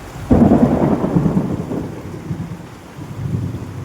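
A heavy thunderstorm cracks into a loud, close rumble of thunder that rolls off over steady pouring rain.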